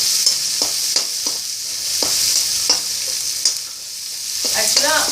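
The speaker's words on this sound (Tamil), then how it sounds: "இப்போ வெங்காயத்தை ஆட் பண்ணலாம்." Sliced onion frying in a pan for dal panchali, a steady bright sizzle broken by repeated scraping stirs of a spatula, close and fairly loud, with no voices.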